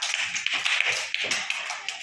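Children in a fourth-class room clap their hands, a quick, uneven patter of light claps running together for a couple of seconds, fairly close and without talk.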